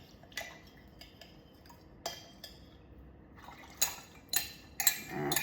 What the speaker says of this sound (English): we put this in our pan, making sure that we get all the little bits at the bottom